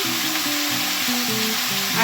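Bitter gourd and pumpkin pieces sizzle in hot oil in a pan, a loud, close, continuous crackling hiss with a faint low hum underneath.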